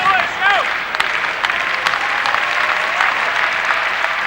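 Hockey crowd at the Coliseum in Fort Wayne applauding and cheering during a Komets power play, a steady broad roar of clapping with a few whistles, filling the arena throughout.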